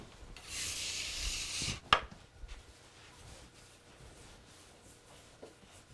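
Dough and flour are scraped across a wooden bakery bench in a short, rough rasping stroke, followed by a sharp knock and softer handling noises, quiet and close.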